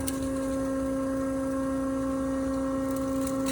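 Kennametal Extrude Hone Vector 200 abrasive flow machine running at power-up, giving a loud, steady electrical hum with strong tonal drone and constant hiss, unchanging and close throughout with no voices.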